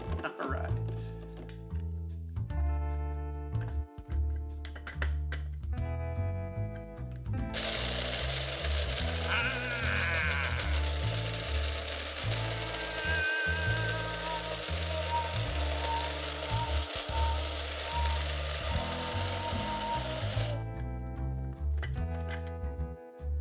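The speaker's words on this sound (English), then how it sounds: "Maybe I should grind the beans" Coffee beans are ground in an electric grinder, a loud, harsh whirring burst lasting about thirteen seconds. Quieter clattering and handling noises come before and after it.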